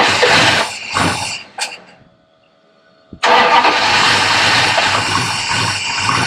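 A car engine cranks briefly, then after about a second of near silence bursts into life and settles into a loud, steady rough roar at close range.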